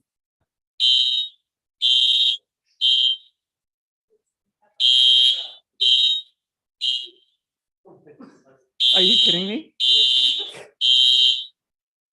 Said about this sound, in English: We have a fire alarm at Douglas.